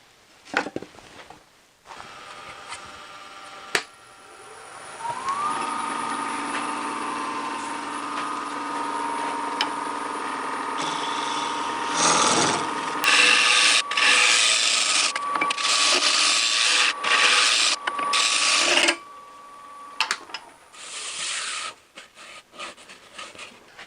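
A woodturning lathe hums steadily as a tool cuts deeper into a spinning wooden bowl, with loud, rough bursts of cutting toward the middle and scattered knocks and pauses near the end; nobody speaks.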